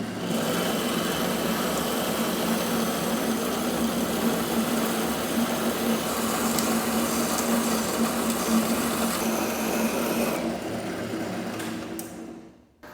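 A steel piston rod for an A.D. Baker steam traction engine is cut off on a lathe. A steady, loud mechanical whir and hum runs unbroken for about ten seconds, then winds down and stops.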